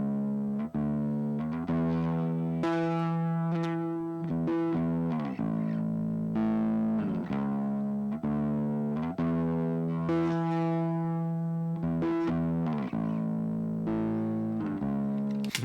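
Distorted bass guitar played as a solo line in a mix, a thick, gritty, saturated tone with sustained notes and steady phrasing, loud and continuous with no other instruments or voices.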